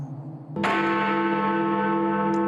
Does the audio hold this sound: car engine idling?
no